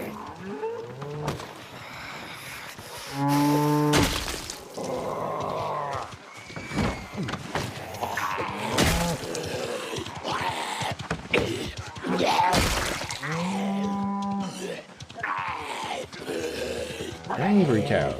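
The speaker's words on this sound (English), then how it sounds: "Angry cows." Cows in the Project Zomboid video game, at a Greenport farm, moo loudly and repeatedly in long drawn-out calls, mixed with thuds and game noises.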